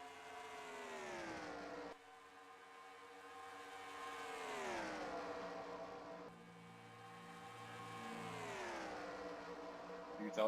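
Race cars, including the Tide Pontiac, roaring around the Las Vegas oval in a racing video game, engines whining loudly as they sweep past in waves, pitch rising and falling with each pass.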